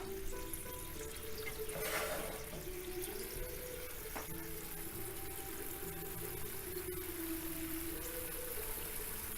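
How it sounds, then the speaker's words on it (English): Chicken piquant with capers simmers in a pan, giving a steady, soft bubbling hiss that runs unbroken throughout with no talking. "we're going to let that simmer a little bit."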